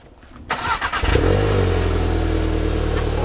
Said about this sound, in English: Cold start. So quiet. All engine noise.